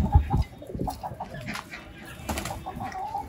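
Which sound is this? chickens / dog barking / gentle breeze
chickens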